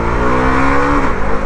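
A Husqvarna Vitpilen 250 motorcycle engine revs loudly and close, a strong harmonic drone that climbs and holds, then drops away near the end of the short burst.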